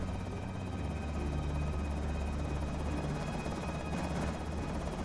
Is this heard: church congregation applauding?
no